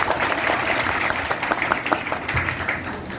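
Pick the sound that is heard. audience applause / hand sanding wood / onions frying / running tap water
audience applause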